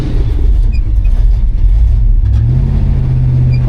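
A 1977 Chevy K10 truck rolls forward under steady engine power, a loud, continuous low rumble with a slight rise partway through, no voices.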